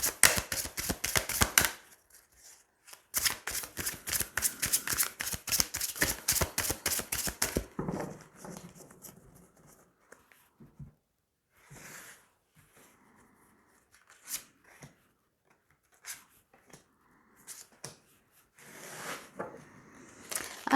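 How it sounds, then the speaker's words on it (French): Tarot cards being shuffled in rapid riffling bursts, then drawn and laid down one at a time with soft slaps and sliding flicks, close and clear with no talking. "Allez, on va tirer 3 cartes."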